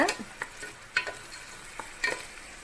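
Cashews and onions frying in a pan for kuthiraivali (barnyard millet) khichdi, with a quiet sizzle under repeated scraping strokes of a spoon stirring every half second or so.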